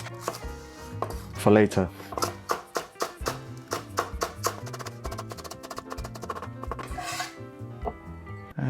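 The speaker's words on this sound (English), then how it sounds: "finally chop up some spring onions" Knife chopping spring onions on a board for ABC soup, a steady run of crisp, close taps that speed up into quick bursts, with a brief word spoken partway through.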